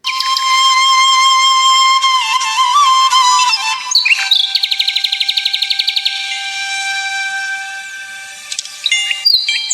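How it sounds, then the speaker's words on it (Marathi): Birds in dense forest on a farm, with loud, clear whistled song phrases, sustained tones and rapid repeated chirps following one another without pause. "पक्ष्यांचे सुमधुर मंजूळ स्वर"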